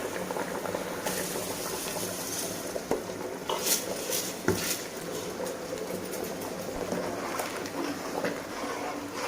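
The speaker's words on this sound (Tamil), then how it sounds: "தண்ணி நல்லா கொதிச்சிடுச்சு" A pot of water boils steadily on the stove before rice goes in for chicken biryani made with seeraga samba rice, a continuous bubbling rumble with occasional sharper pops and clinks, fairly close and with no talking.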